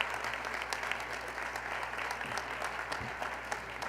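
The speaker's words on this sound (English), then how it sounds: "Let's extend a nice round of applause to this group of extraordinary colleagues" An audience at a joint agreement signing event gives a round of applause, a fairly quiet but steady wash of many hands clapping heard from some distance over a low background hum.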